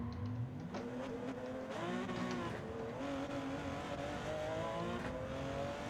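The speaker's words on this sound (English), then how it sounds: "we did a full 360 clattering off the post" Porsche 917K race car in Gran Turismo 7 spins after clattering off a trackside post, its engine note rising and falling steadily with tire squeal layered over the continuous roar.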